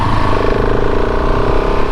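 A KTM 690 SMC R single-cylinder motorcycle runs steadily in first gear at moderate revs. The close, loud engine note holds an even pulsing hum throughout, with no voices.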